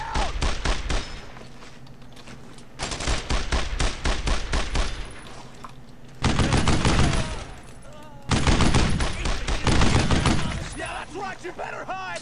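Rapid automatic gunfire of suppressing fire in the WWII game Brothers In Arms: Road To Hill 30, loud close bursts of fast repeating shots coming in four long volleys with short lulls between.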